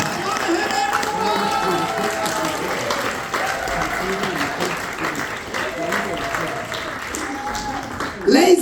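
A comedy show audience applauding and cheering, dense sustained clapping with whoops and shouts from a large crowd, a host's voice talking over it, swelling louder at the end.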